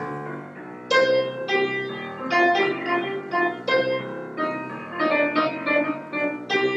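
A jazz piano melody rings out in the right hand while a walking bass moves steadily underneath, played alone at a moderate, lively pace.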